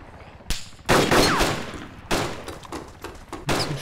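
Suppressing gunfire in DayZ, with loud close shots fired in several quick bursts and single cracks, each followed by a short echoing tail.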